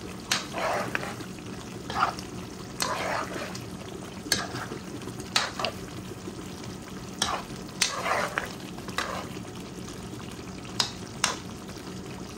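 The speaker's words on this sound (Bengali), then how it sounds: "মশলা দিয়ে ভালোভাবে নাড়াচাড়া করে আমি রেখে দেবো।" Spices being stirred in a frying pan for chicken korma: a steady low sizzle broken by repeated scraping strokes of a spoon against the pan, close and fairly loud, with no talking.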